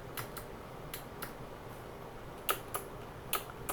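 Typing on a GMMK Pro modular mechanical keyboard with lubed stabilizers: a few soft, sparse key clacks close to the mic, quiet and muted, over a low background hum.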